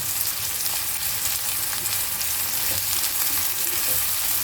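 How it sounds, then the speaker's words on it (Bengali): Onion paste fries in a pan, giving a close, steady, hissing sizzle that holds evenly throughout with no talking. "পেঁয়াজটা খুব ভালো করে ভেজে নেবো, তারপর ওর সঙ্গে মিশিয়ে দেবো।"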